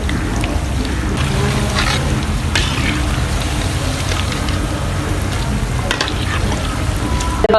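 Aloo palak pakoras frying in hot oil, giving a steady, close, continuous crackling sizzle throughout with faint talk underneath.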